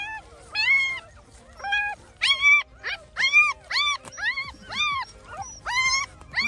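A spotted Vietnamese native hunting dog whimpers and yips in a string of high, wavering cries, about a dozen short bursts close by, with brief gaps between them.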